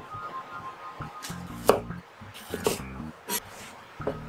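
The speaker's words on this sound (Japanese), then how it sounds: "まずは玉ねぎ、真っ二つに切断してから皮を剥ぎ取ります。" A knife cuts through an onion on a cutting board, giving a few sharp chopping knocks spaced across a few seconds, close and fairly clear, with a soft voice in the background.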